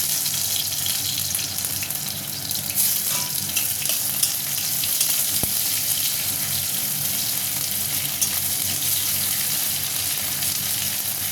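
Chopped onion hitting hot oil with cumin seeds already blackened in the pan, giving a steady loud sizzle and crackle with faint watery hiss, plus one sharp tap partway through; no one speaks.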